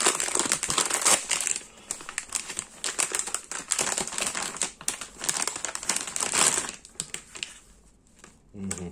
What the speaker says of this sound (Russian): Антистатический пакетик.